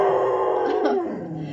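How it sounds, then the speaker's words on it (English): An excited English Setter lets out a short, wavering howl with yipping edges, close and clear, trailing off within about a second. "She likes to do a little howl, even though she's not a hound or anything."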